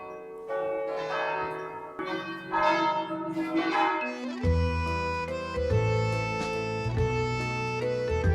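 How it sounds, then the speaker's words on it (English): Church bells from the bell tower of St Catherine's Church ringing in a slow sequence of resonant strikes, each one leaving a long humming decay, with deeper, louder tolls in the second half. "And here is a bell tower for St Catherine's Church."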